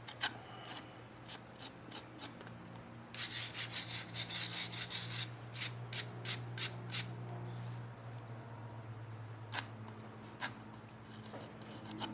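A horse's hoof being trimmed with a rasp, rhythmic scraping strokes in a quick run, then a few slower passes, faint and close against a low steady hum.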